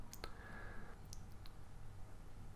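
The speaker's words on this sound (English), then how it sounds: "all I need to do is click submit" A computer mouse clicks a submit button on a web page, giving a few sharp, quiet clicks close by over a low, steady background hum.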